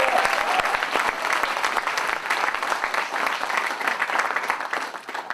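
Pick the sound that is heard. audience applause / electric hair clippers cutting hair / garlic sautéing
audience applause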